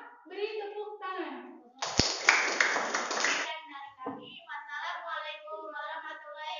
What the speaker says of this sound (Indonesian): Untuk kelompok 2 beri tepuk tangan